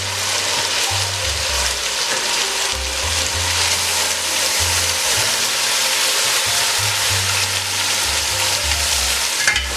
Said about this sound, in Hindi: गोश्त को लहसुन अदरक के साथ मैं अच्छे तरीके से भूनूंगी